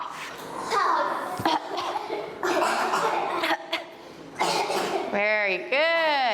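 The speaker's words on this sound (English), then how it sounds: "And cough. Cough." Several children cough in turn, short bursts spread through the clip, close and fairly loud, ending in a few rising voiced yelps.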